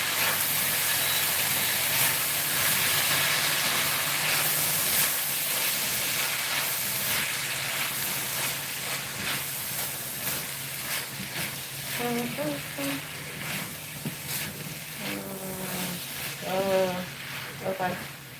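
Pork and vegetables stir-fried in sauce, a steady loud hissing sizzle running throughout, with a voice speaking intermittently over it near the end.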